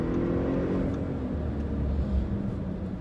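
A car accelerating hard, a model that reaches 100 km/h in 3.7 seconds, its engine a steady low rumble with a rising tone, loud and continuous with no voices.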